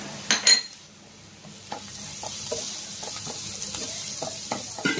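Onions and green chillies fry in a pan with a soft steady sizzle, broken by a few clinks and scrapes of a spoon stirring against the pan.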